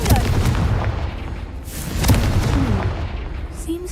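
Repeated Confringo blasting-curse explosions in Hogwarts Legacy produce a continuous wall of loud booms and rumbling, with heavier blasts at the start and about midway through.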